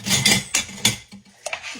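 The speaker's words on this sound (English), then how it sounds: "Stir them up a little bit so in case they went to the bottom." Grits stirred in a pot on the stove with a spoon, giving several quick metallic scrapes and clinks against the pot in short bursts, close and fairly loud, with no talking.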